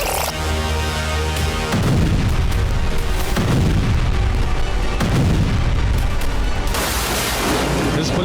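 Loud, continuous barrage of booming blasts and heavy rumbling from an attack on an Israeli military Humvee, with repeated bursts swelling and fading across the whole stretch, no voices heard.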